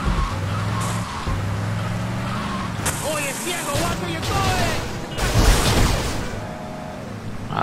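A car driving in Grand Theft Auto Vice City, with a steady engine drone under game dialogue, a few skids and bursts of gunfire-like cracks, and the motor swelling louder near the end.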